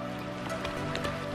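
Steady rain falls in a dense, even hiss with scattered droplet taps during a wet bicycle ride, filling the whole moment without any talking.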